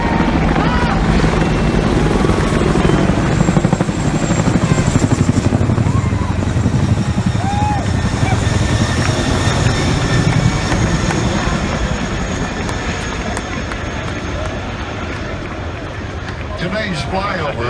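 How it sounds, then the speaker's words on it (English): A Royal Netherlands Air Force 302 Squadron military aircraft flies over the Circuit of the Americas racetrack, with a loud, broad roaring rumble that swells and then slowly fades, heard above a noisy outdoor crowd. "Today's flyover is courtesy of the 302nd Squadron of the Royal Netherlands Air Force"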